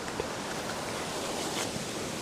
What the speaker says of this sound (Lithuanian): Nu ir kylo vėjukas